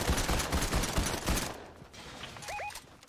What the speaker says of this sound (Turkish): Biri sıkıyor.